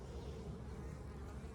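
Honey bees swarm around a hive in a steady, dense, close buzz that fills the whole moment without a break, with no voices.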